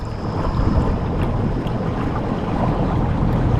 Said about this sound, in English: we got this thing pretty much full throttle and we're just spinning in one little tight loop